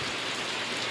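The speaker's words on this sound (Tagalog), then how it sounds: "biyaya ng ulan." Steady rain falls in Barangay Nasunogan, Banton, Romblon, a dense, continuous hiss of drops with no pauses and no voices.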